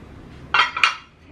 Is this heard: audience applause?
no